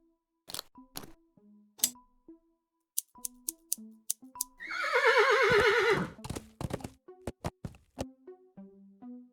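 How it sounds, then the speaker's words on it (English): A horse whinnies once in Willy Morgan and the Curse of Bonetown, a loud, wavering neigh in the middle, set among short clip-clop hoof taps and small chewing clicks before and after. "Easy, horsey. You won't notice a thing."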